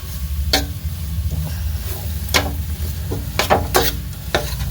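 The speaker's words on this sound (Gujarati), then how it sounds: "આપણે એકદમ શેકી લેવાનું છે. ઘી એડ કરતું જવાનું." Urad flour roasting in ghee in a pan gives a steady low sizzle, with repeated scraping stirs of the spatula at irregular intervals, close and moderately loud with no voices.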